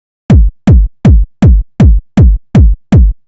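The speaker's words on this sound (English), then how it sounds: "The first thing we have is your classic kick punch." Eight punchy techno kick drum hits in a steady, even rhythm, each a deep booming thump with a sharp attack, loud and isolated.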